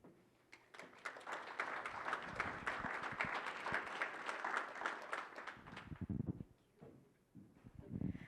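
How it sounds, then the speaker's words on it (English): Sustained applause from a crowd for speakers after their talks, dense clapping that swells and holds for several seconds before thinning out into a few scattered claps. "Can we give them another round of applause?"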